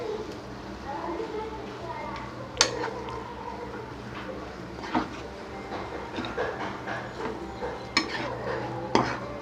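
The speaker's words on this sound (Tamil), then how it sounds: "இதை நல்லா மிக்ஸ் பண்ணி விட்டுக்கோங்க. இந்த மாதிரி நல்லா மிக்ஸ் பண்ணிக்கோங்க." A spoon scrapes and clinks in a bowl while the cheesy potato filling for aloo paratha is mixed, with a few sharper knocks against the bowl and a voice talking over it.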